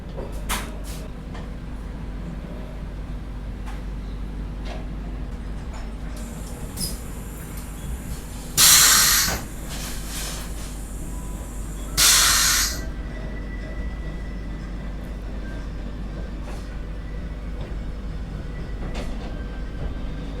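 Inside a Vande Bharat Express executive class coach leaving Kanpur Central, a steady low rumble of the moving train carries throughout, broken by two loud bursts of hissing air.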